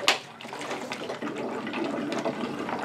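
Water swirling in a vortex through a tornado bottle, a continuous gurgling, sloshing swirl heard up close with small splashy bursts, no talking over it.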